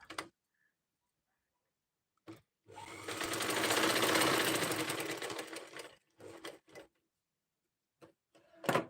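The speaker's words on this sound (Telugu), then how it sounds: "దీనికి పై స్టిచ్చింగ్ అయితే ఒక్కొక్కటి వేసేయండి ఇలా ఇలా వేసుకోవాలన్నమాట" A sewing machine stitching blouse fabric runs in one sustained whirring burst of about three seconds, close and clear, framed by brief clicks and short stitch runs before and after, with no speech.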